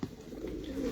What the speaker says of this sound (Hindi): ये भी उस्ताद के घर की है, उस्ताद के रानी वाले कबूतर